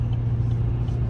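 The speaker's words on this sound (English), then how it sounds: "So many trucks." Heavy road traffic with many trucks near Tehachapi, California, heard as a loud, continuous low rumble of engines and tires with no talk.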